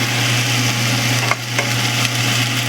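Masala for Dhaba-style Punjabi chicken fries in oil, a steady close sizzle and hiss throughout, with a few faint stirring scrapes.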